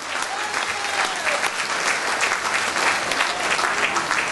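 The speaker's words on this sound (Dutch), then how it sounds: "geef me een luid applaus mensen, Everard Jamin." Loud, sustained audience applause in a hall, dense clapping from a large crowd with uneven swells throughout, close and continuous.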